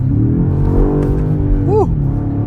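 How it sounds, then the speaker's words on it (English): A 2026 BMW M5 Touring G99 hybrid wagon accelerating, heard from inside as a steady loud engine drone with a brief rising pitch sweep near the end. "driving the G99 BMW M5 Touring. This thing feels so powerful, it's ridiculous."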